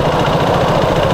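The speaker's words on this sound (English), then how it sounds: "I don't know if you can hear my engine, I hope so." Car engine idling, picked up by a lav mic inside the vehicle: a steady low, rough rumble with no talk over it.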